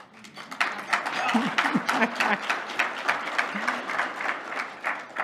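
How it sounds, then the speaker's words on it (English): A luncheon audience at a chamber of commerce event breaks into steady applause, many hands clapping densely for several seconds at a moderate, even level with a few scattered voices mixed in. "You could clap there if you like"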